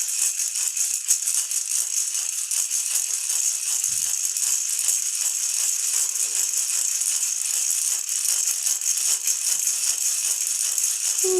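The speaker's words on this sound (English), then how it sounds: "If you have a rattle, this is a great time to be rattling along." A handheld rattle is shaken continuously in a fast, even rhythm, a bright close-up shushing jangle that runs steadily for about eleven seconds with no voice over it.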